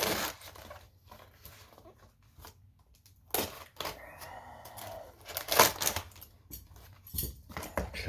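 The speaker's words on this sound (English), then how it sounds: "This one I gotta get into with my trusty scissors." Paper and plastic crinkle and tear at close range, with short snipping bursts of scissors cutting open a mailed package, no talking.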